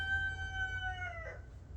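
A rooster crows once, a clear harmonic call that falls in pitch and fades at the end, heard at moderate distance over a low steady background rumble.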